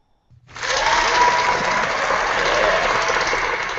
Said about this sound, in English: we need a round of applause for that